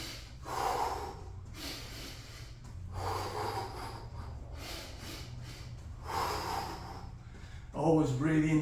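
Heavy rhythmic breathing during a garage back and biceps workout: repeated loud, forceful exhales and gasps in pulses about every couple of seconds, close to the microphone, with a brief voice at the end.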